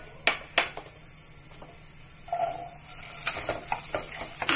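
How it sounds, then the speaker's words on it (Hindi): Carrots and peas stir-frying in hot oil in a kadhai, with a few sharp spoon knocks on the pan first, then a building, steady sizzle with scraping stirs. "इसे हम 2 मिनट के लिए भून लेंगे"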